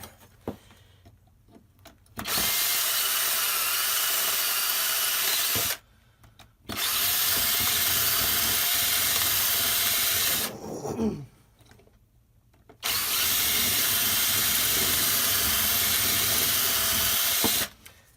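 Power drill enlarging holes in metal while making a railroad spike knife, whirring in three sustained bursts, each a few seconds long, separated by short pauses, steady and close by with no talking.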